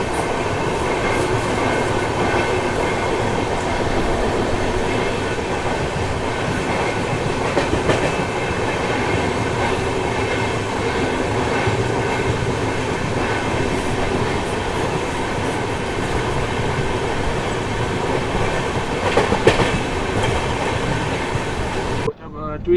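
Vaishali Express train rolling steadily through railway crossings, a continuous loud rumble of wheels and carriage noise with rhythmic clatter over rail joints and brief squeals, heard from inside the moving train.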